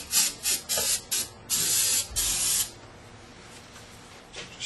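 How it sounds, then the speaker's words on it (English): Brake cleaner sprayed from an aerosol can onto engine parts of a GM 3800 L67 3.8L during intake manifold gasket work, several sharp hissing bursts, short and longer, close by, then quieter faint spritzes. "Just a brake clean. Spray on here."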